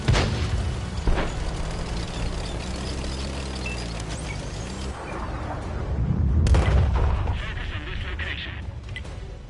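A tank gun firing blind in World of Tanks, with a heavy boom at the start and another loud blast later over rumbling engine drone, while someone talks over the action.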